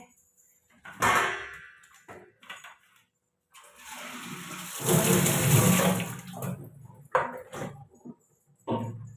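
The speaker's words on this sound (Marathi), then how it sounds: "चला मी आता पटापट बॉटल भरते" Water gushes from a tap into a bottle for a couple of seconds, with someone talking and small clinks before and after.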